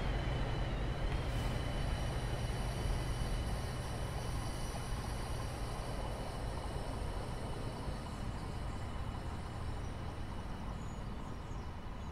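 A train rumbles steadily through a rail simulation landscape in Train Simulator 2022, heading toward one of many tunnels; a continuous low rolling drone with a faint high whine persists evenly throughout, with no talking.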